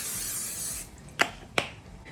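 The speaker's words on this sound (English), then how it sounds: "I'm gonna put just a little bit of butter spray on the bottom" Butter-flavored cooking spray misted onto the bottom of a baking dish while assembling lasagna, two short separate hissing bursts close by, with no talking.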